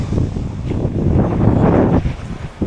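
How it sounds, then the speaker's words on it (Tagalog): Strong gusts by the sea, where boats are moored, buffet the microphone with a heavy, low rumbling roar that rises and falls. "Mainit pero malakas ang hangin, kaya balanse lang."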